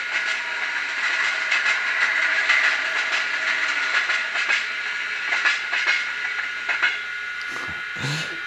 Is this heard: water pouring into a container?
no